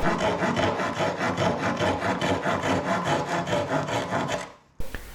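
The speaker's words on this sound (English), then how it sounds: "I trim the cut using a garden pruning saw" A garden pruning saw trims a curved cut on a wooden Greenland paddle in steady, rapid back-and-forth strokes, a dense, rasping rhythm of about four strokes a second that ends abruptly with a final knock.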